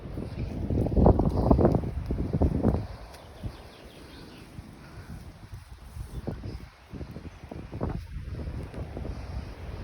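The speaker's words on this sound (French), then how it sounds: "Avec le vent qui souffle." Gusty wind buffets the microphone, loud at first and then easing into a softer, uneven rush with intermittent low thumps.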